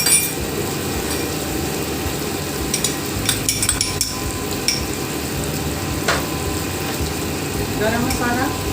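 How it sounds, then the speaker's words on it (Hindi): Liver (kaleji) frying in a pan with tomato, red chilli powder, garam masala and black pepper, a steady close sizzle with occasional utensil clinks as it is stirred; no talk. "थोड़ा सा मैंने इनको भूनना है ताकि मसाले इसमें पक के।"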